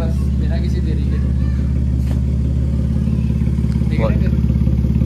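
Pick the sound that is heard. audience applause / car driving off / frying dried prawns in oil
car driving off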